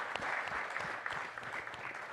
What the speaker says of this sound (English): please, a round of applause for our panel